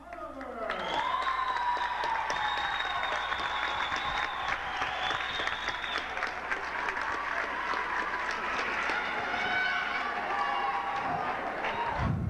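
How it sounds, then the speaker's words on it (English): A crowd at the 1992 Courier Gazette three-point shooting contest applauds and cheers in a long, sustained wave, with a voice talking over the noise. "the crowd is getting excited and the pace is certainly picked up"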